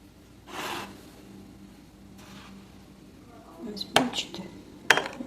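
Utensils clink and scrape against a bowl while stirring a dessert mixture, in a few sharp bursts near the end, after quieter soft rustling, with a faint hum underneath.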